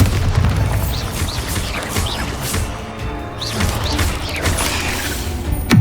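Bombarda spell blasts in the Hogwarts Legacy game, layered with dense crackling impacts and rumbling booms that persist over steady game noise, with several sharp bursts throughout.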